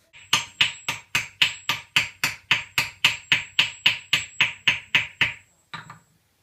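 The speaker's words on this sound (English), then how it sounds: "It's quite amazing what can be done just with a hammer" A hammer strikes a silver goblet on a metal stake in a steady, rapid series of about eighteen sharp ringing blows, close and even, followed by a brief pause and one softer knock.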